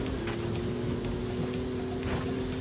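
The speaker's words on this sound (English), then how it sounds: "the rain has just gotten heavier" Heavy rain pours steadily during a wet-season race in the video game Forza Horizon 5. The hiss stays constant and close, with a car's steady engine drone humming underneath.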